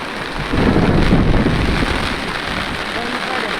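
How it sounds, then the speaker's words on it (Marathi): Heavy rain pouring in a thunderstorm during monsoon fishing, a dense, loud hiss of drops on surfaces with a low rumbling surge, steady and close throughout with no voices. "पावसाचा जोर वाढला चांगलाच भिजलो"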